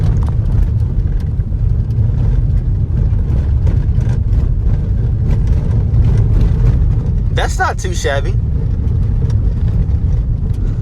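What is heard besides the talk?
road noise inside 2015 Ford Flex SE driving on gravel road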